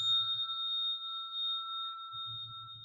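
A 216 hertz tuning fork ringing with a pure, steady, sustained metallic tone that holds evenly throughout, close and clear, with a faint low rumble at the start and end.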